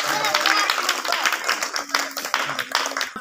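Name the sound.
children clapping for everyone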